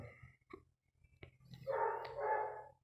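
A neighbour's dog barks in the background: a few short yips, then a longer, louder bark, moderately distant and with no speech over it.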